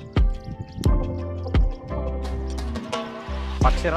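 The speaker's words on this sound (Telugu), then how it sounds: "ఇదే నీళ్ళు స్టోరేజ్ అవుతున్నాయి, నీళ్ళు వస్తున్నాయండి" Water dripping into a stone storage pool inside an old fort, slow heavy drops that land every half second or so with hollow ringing echoes, close and clear against a resonant background.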